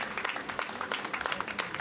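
Congregation at a sermon claps together in a soft, dense patter, a brief continuous burst of many hands heard at a distance.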